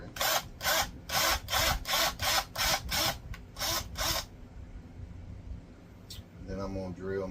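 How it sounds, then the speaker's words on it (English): A power drill bores a hole in wood in a rapid series of about nine loud, rhythmic bursts over four seconds, then falls quiet before a voice speaks briefly at the end. "And I'm going to drill me a hole"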